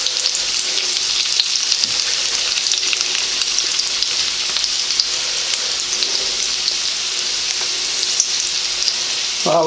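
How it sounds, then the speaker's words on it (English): Garlic and chicken fried rice frying in an electric frying pan, a loud steady crackling sizzle that runs unbroken and close, with no talk. "we'll go ahead and put in the garlic as well, and get these things, get it cooking and going good"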